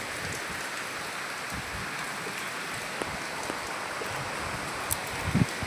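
Heavy midday rain pours down in a dense, steady hiss of drops hitting surfaces, with a few louder splashes near the end.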